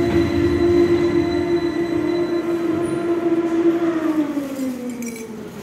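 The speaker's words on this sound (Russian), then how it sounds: "Это была поездка на трамвае ЛВС-2009-73-154 по линии скоростного трамвая от 39-й Гвардейской до станции Пионерская." An LVS-2009 tram rides a high-speed tram line, a steady loud rolling rumble with a sustained motor whine that drops in pitch toward the end, no voices.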